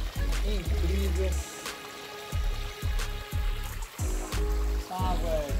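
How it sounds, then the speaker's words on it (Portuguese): Fresh water running straight from the rock into a small natural pool at a guesthouse in Ilhabela, a steady rushing trickle heard close by beneath someone talking throughout. "Aqui tem um laguinho natural, cara, que esse barulho todo mundo acha incrível."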